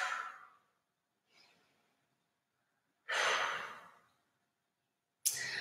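Deep breaths taken during a glute exercise with a loop band in a live workout class: slow, airy inhales and exhales close to the microphone, one long breath after a fainter one, with no talking over them.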